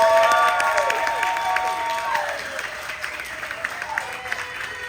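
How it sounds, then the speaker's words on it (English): Audience applause fills the room at a live talk, a dense, steady wash of clapping that holds for several seconds and slowly thins toward the end, with faint tonal sounds running underneath. "One more round of applause, please."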